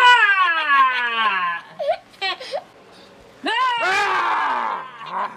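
A young boy screams and cries loudly in high, wavering bursts, falling to brief whimpers and quiet before a second long, shrill scream.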